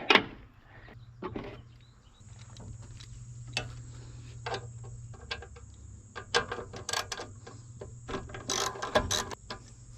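A 1/4 inch ratchet works loose a bolt on a lawn mower carburetor, giving quiet, close, irregular clicking in short runs throughout, with a faint steady hum underneath.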